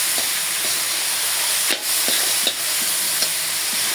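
Leafy greens fry with shrimp in a hot pan, giving a loud, steady sizzle and hiss broken by the periodic scrape and knock of a stirring utensil.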